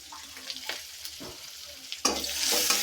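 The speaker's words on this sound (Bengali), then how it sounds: "পেঁয়াজ কুচি দিয়ে দিচ্ছি সেই তেলের মধ্যে" Chopped onions dropped into hot oil with green chilies in a village kitchen, a few quiet scrapes and taps, then a sudden loud hiss of sizzling that holds steady to the end, with no talking.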